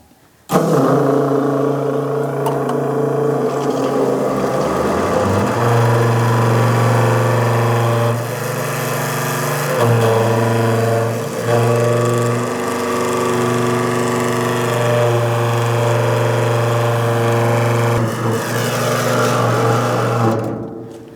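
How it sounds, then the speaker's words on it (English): A hydraulic pump for an IRONCRAFT grapple runs as a loud, steady mechanical drone with a low, even hum. It starts a few seconds in and then holds constant, with no talking. "Let's turn the pump on."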